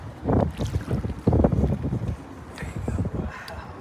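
A fishing boat's motor rumbles low and steady close by as it moves forward during tarpon fishing, with wind buffeting the microphone in gusts.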